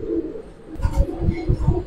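A silver khaki subchila pigeon coos close by in a short run of low, rhythmic throaty pulses.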